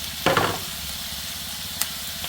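Onions with crushed ginger and garlic fry in a pan for a Kerala-style small prawn roast, giving a constant close sizzle with a brief stirring scrape near the start and a light clink later.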